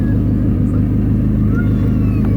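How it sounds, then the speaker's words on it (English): Dodge SRT-4 with a new exhaust rumbling steadily from inside the moving car, a loud, deep, continuous engine and exhaust drone with no break throughout. "You can hear it big time. Now it's like all just exhaust."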